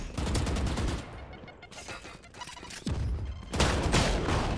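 Shotgun fire in the Valorant video game comes as dense, loud bursts of overlapping shots and impacts, clustered in two heavy volleys with a brief lull between, no voices.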